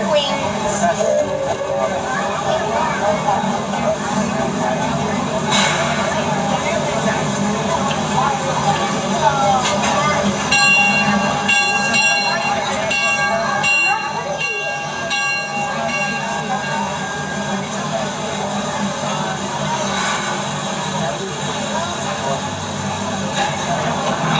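The Six Flags Texas Railroad amusement park train rumbles and clanks steadily as it pulls away from a station, wheels rattling on the rails, with a voice speaking over the noise.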